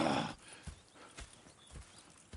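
Horses in the video game Red Dead Redemption 2, hooves clip-clopping at an easy walking pace in a sparse, irregular rhythm, fairly faint after a brief burst of louder noise at the start.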